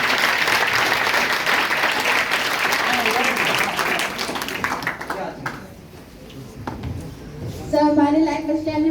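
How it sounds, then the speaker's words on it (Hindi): Loud, dense applause from a crowd at a career-building seminar, filling the first five seconds, then thinning and fading while a few voices speak over scattered claps. "जोरदार तालियां इसके लिए।"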